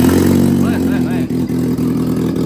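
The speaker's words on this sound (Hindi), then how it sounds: "सबसे पहले पखी की आवाज चेक करो। पूरा हेलीकॉप्टर वाली आवाज।" An idling car engine rumbles steadily up close with a whirring fan beating over it in a helicopter-like throb, with a voice speaking over the running motor.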